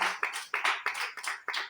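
A small group claps in quick, uneven bursts during a lively French-speaking church gathering, about six sharp hand-slap clusters over under two seconds, moderately close and without speech.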